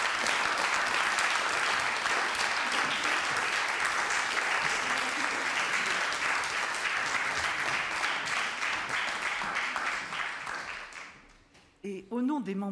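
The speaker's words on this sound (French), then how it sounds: "on peut les applaudir très fort" Loud, sustained applause from a large audience at the 50th-anniversary congress of the French arts education federation, dense clapping that fades out near the end before a voice begins speaking.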